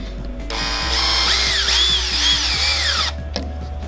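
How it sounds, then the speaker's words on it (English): Close cordless power drill driving screws into an RC Rustler buggy kit, one steady whine that rises and falls in pitch for about two and a half seconds, then stops abruptly. "this process is a lot quicker with the drill"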